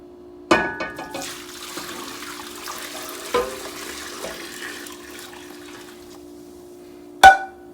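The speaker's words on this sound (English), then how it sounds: "Now we're going to pour on our beautiful hot liquid here." Hot liquid is poured into a pot in a home kitchen, a soft continuous splashing pour with a few clinks and knocks, the loudest clink at the end.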